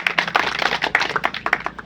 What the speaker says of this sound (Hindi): तो उसके लिए एक बार जोरदार तालियों से स्वागत करें।